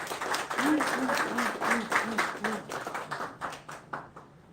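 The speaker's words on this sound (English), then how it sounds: "let's give Bruce a round of applause" A small crowd at a bee club meeting claps for a presenter named Bruce, a short burst of scattered hand claps with voices and chatter mixed in, fading toward the end.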